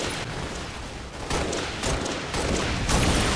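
Dense gunfire crackles through a Halo: Reach multiplayer match, bursts of shots layered over a constant noisy backdrop of battle sounds, loud and nearly continuous.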